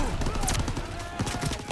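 Rapid machine gun fire in Call of Duty WW2, a burst of close, rattling shots under a dense battle mix while a player talks over it.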